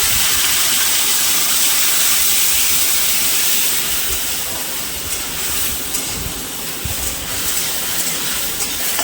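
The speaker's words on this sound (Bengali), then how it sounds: "আমি এবার পেঁয়াজ বাটাটা দিয়ে দেবো। পেঁয়াজ আর কাঁচা লঙ্কাটা বেটে রেখেছিলাম সেটা দিয়ে দেবো।" Onion and green chilli paste sizzles loudly and steadily in hot oil, a continuous frying hiss with no talking.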